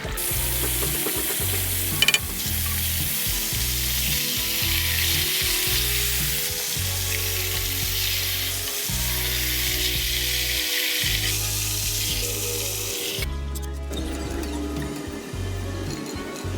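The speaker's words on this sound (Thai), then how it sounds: "ทีนี้ก็ทำการทอดได้เลยครับ ทอดทีละตัวนะครับ" Tilapia coated in crispy batter flour frying in hot oil, a loud, dense, continuous sizzle close by with a low rhythmic hum underneath, no talking.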